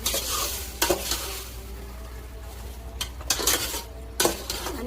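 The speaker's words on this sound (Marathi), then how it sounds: "आता याला आपण हलवून घेऊया." Nagar-style chicken biryani masala is stirred in a pan, with a steady close sizzle broken by repeated scraping strokes and metallic clinks of the spoon against the pan.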